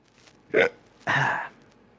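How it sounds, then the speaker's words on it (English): Two sharp hiccups sound close and alone, the first a short clipped gulp and the second longer and more drawn out, about half a second apart in a quiet room. "I do like 300 hiccups a day, especially when I eat food"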